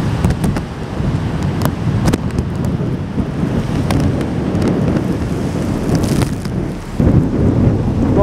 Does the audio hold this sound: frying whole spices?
no